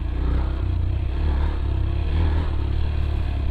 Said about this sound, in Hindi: और देखो कितना पेपी हो गया ये इंजन, देखो रिस्पांस देखो अभी